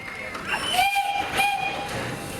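A vintage Czech railway locomotive running, with a bright whistle-like tone sounding twice and rolling rail noise, faint voices under it.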